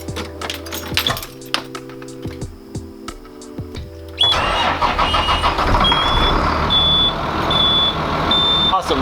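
A prison bus engine cranks and fires up after a quiet stretch of faint clicks, then settles into a loud, steady idle with a repeating electronic warning beep over the running engine.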